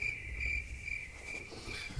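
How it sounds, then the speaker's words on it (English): Crickets chirp in a steady, high, continuous trill, used as a sound effect for awkward silence. It is fairly faint and there is no talk. "Crickets."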